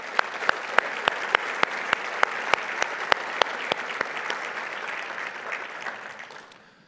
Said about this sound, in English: Let's give our labor representatives a big round of applause.